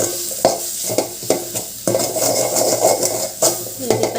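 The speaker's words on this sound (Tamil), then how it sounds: "இப்போ இதை சேர்த்துட்டு நல்லா கிளறிடலாம்." A spoon stirs ingredients in a sizzling pan for pasta, scraping in regular strokes about every half second over a continuous close frying hiss.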